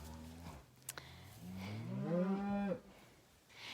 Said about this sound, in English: Here's the nice red speckled park calf that we got cut off from seeing before.